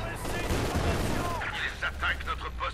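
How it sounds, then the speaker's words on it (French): A Puma armored car's machine gun fires in a Company of Heroes 2 battle, with bursts of rattling automatic fire and rumbling explosions mixed under game effects. "c'est pour la petite mitrailleuse qui sort de là. Qui tire d'ici là"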